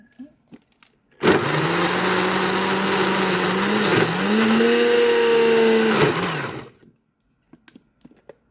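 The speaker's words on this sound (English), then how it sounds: "Blend this. I think it's cooled off. Let's try blending it." A blender purees cooked carrots in one continuous loud whir lasting several seconds, with its pitch dipping briefly as the load shifts, then spinning down to silence.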